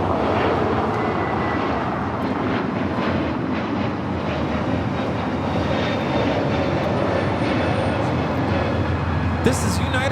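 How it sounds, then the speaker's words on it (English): A United Airlines Airbus A321neo takes off at LAX bound for Denver, a steady, loud jet engine roar filling the whole stretch with broadband rumble, while a voice talks over it. "This is United Airlines 1729 taking off to Denver, Colorado on the A321neo."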